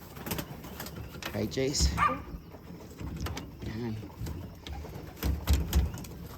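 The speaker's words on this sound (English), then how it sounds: "We got a few birds in the tree." Pigeons or doves perched in a tree give a few soft coos, mixed in with someone talking nearby outdoors.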